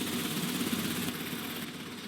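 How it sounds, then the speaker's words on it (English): Engine starting up and running inside a Victorian greenhouse machinery setting in a Sherlock Holmes detective game, a steady low droning rumble with a faint mechanical hum, even and continuous throughout. "The engine has started."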